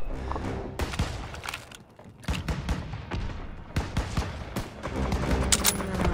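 Machine-gun fire in the World War II shooter Call of Duty WW2 rattles in loud, dense bursts with heavy thumping impacts, sometimes breaking off briefly before resuming, with no voices over it.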